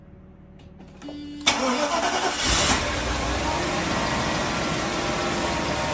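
A 1986 Mercedes-Benz 420SEL starts from cold on a 40-degree day: a brief starter whir catches into a loud burst, then settles to a steady, even idle close by, with one short spoken word.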